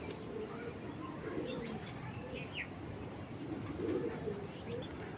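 Breeding racing pigeons, Belgian-bred birds kept in a loft, coo in low, repeated rolling calls at close range, with a few brief chirps above a steady background murmur.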